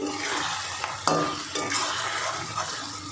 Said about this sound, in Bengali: এবার আমি মাছের পকোড়াগুলো দিয়ে দেবো, মিশিয়ে দেব।